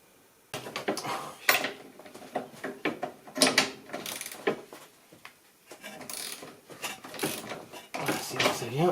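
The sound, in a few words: ratchet with extension and 19 mm socket loosening Mercedes C200 suspension bolts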